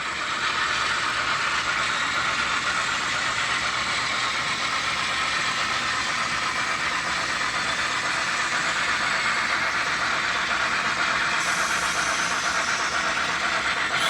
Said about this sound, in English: There comes my steam engine